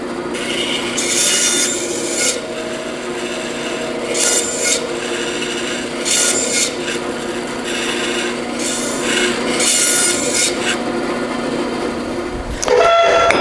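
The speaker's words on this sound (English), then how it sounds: "Now that we have all the hinges sanded and smooth" Wooden safe hinges are rubbed back and forth with sandpaper in repeated rasping strokes, each stroke roughly a second long, loud and close. A brief clunk comes at the end, and no one speaks.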